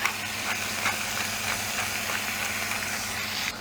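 Meat, peppers and cheese cook for a sandwich under a parchment-paper lid, giving a steady, close hiss of steam and sizzle with faint soft pops.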